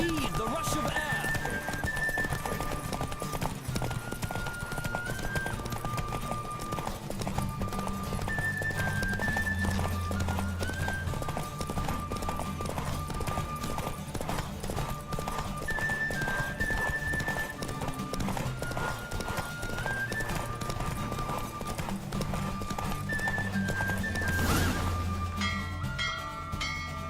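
Rapid hoofbeats of a horse galloping in a Witcher 3 race carry on steadily for the whole stretch, layered with melodic game music, bell-like tones and occasional talk.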